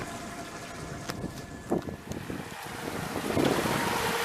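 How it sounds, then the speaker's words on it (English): Wind blowing outdoors during a motor test on a solar electric catamaran, a soft steady gusting hiss with a few faint knocks and splashes, rising slightly near the end, no talk. "A little bit windy today"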